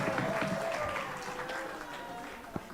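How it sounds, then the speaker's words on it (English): Applause from attendees at a corporate services monthly meeting greeting a doctor, a fairly quiet, distant-sounding spread of clapping that gradually thins, with a faint voice or tone running beneath and one sharper clap near the end. "I am expecting you'll give me a hell of a loud round of applause"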